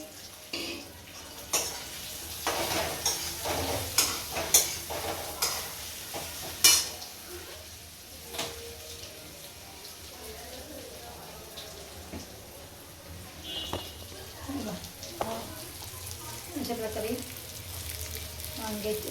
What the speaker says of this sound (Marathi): वांगे फ्राय करून घेते झाले फ्राय करून तेल थोडं जास्त झालेलं आहे